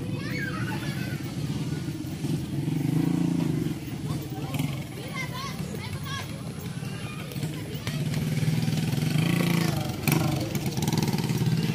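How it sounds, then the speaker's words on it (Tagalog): Motorcycles run and rev steadily past a busy village street during a barangay fiesta, with a continuous engine drone that swells and fades under people talking. "Kaya ang daming motor oh."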